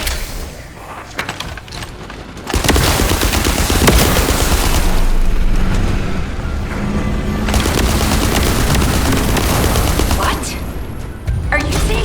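Sustained gunfire in The First Descendant fills the scene with loud, dense rattling bursts that run almost continuously, with heavy booms mixed in and a brief lull early on.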